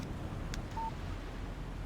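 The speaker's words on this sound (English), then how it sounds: "Text message from Barry." A short, faint electronic beep sounds once, preceded by a soft click, as a phone's text message alert in the video game Alan Wake, over a low windy background hiss.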